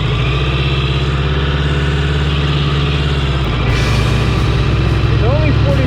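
A vintage 1000cc, 42-horsepower motorcycle runs loud and steady nearby, its engine note changing midway as it is shifted into first gear, with a voice talking over it.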